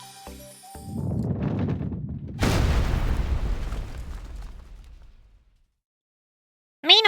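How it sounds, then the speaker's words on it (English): Deep rumbling explosions in the video game Blue Archive: a muffled boom builds, then a louder burst with a long roar that fades to silence, followed by a brief chime. "Meanwhile, explosions."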